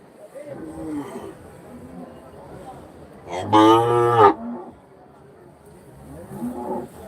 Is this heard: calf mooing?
yes